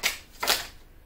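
Tarot cards riffled twice in quick succession, two crisp papery bursts close to the mic with a short pause between, then quiet.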